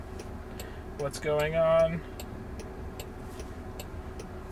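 Hazard lights tick in a driverless Waymo car, soft regular clicks at a steady pace through the cabin, briefly interrupted by a person speaking.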